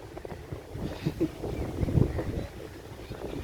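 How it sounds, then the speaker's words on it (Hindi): Steady gusts of wind rumble against the microphone, a low, continuous roar that swells and eases throughout. "हवा इतनी तेज़ है, देखें परिंदे"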